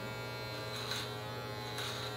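Electric beard trimmer cutting off about half an inch to an inch at the bottom of a beard, a steady close, low buzzing hum that holds evenly throughout with no voices.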